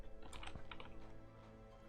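Quick bursts of keystrokes clatter on a computer keyboard, close and fairly quiet, with a few irregular taps and no talking.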